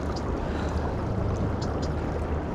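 A motorboat motoring up a river in Yuma, Arizona, alongside bamboo bushes, a steady close engine drone mixed with wind and water wash, with no speech.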